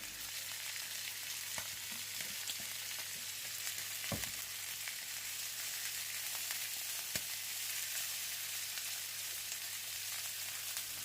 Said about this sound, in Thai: ผัดคลุกเคล้ากันจนผักเริ่มจะสุก